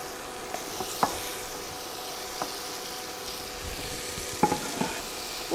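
Onions sizzling on a hot buttered griddle for a steak, egg and cheese bagel, a constant close hiss with a few light scrapes and taps of a spatula scattered through, no voices.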